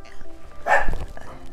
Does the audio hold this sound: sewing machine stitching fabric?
no